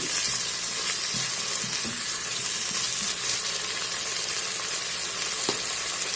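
Chicken sausage sizzles in a pot of rice with beef, a steady frying hiss with scattered crackles and a few soft clunks of stirring, loud and close with no speech.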